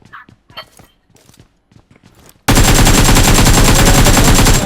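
Loud, continuous automatic gunfire from a shooting video game bursts in halfway through and keeps up without a break, after a stretch of players chatting over the game's quieter sounds.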